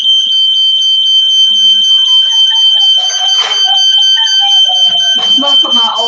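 An old household smoke alarm, set off by cooking smoke while burgers and chicken wings are made at home, blares a loud, continuous shrill tone close by, with voices talking over it in the latter half.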